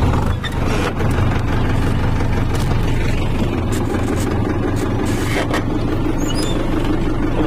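An Arjun Novo 605 tractor engine runs in a loud, steady, close diesel drone with constant low rumble and no pauses.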